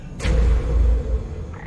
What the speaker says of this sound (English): Catachan Bark and Toad, sir. The most poisonous creature in the galaxy.